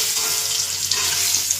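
Pointed gourd (potol) frying in oil in a kadai, a loud, steady close-up sizzle with faint stirring clicks and no voices.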